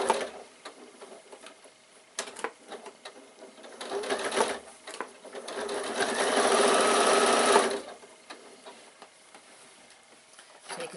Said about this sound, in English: Sew until you meet that row there of stitches.